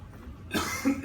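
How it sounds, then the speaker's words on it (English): A single cough from someone getting over a cold during a neighborhood commission meeting: one short, husky burst followed by a smaller second catch, close to the microphone against a quiet room hum. "Sorry, I'm getting over a little cough."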